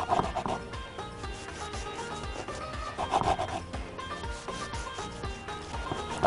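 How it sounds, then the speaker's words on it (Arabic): A serrated knife saws through crunchy baked Egyptian faish, giving close, repeated rasping strokes with a scratchy, crackling texture in a steady back-and-forth rhythm. "اهم حاجه ترانش مشرشر، هبتدي اقطع بيه بقى."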